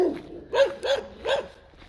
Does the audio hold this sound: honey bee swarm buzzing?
no